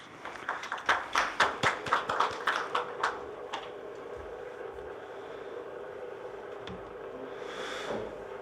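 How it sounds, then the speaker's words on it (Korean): A few seconds of scattered hand claps from a small audience at a Korean policy forum on tree burial, welcoming a presenter, fading out after about three seconds into quiet room tone. "큰 박수로 맞이해주시면 감사하겠습니다"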